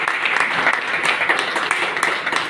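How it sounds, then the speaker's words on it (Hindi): An audience at a church gathering applauds to welcome guests, an even, continuous wash of clapping at moderate volume lasting throughout. "हम तालियां बजा कर खुश आमदीद करें"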